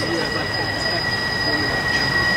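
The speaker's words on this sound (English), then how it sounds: "I'm just gonna wait for that train to stop speaking if you don't mind." Train passing nearby, a loud continuous rumble with sustained high-pitched wheel squeal held steady throughout, with no talking over it.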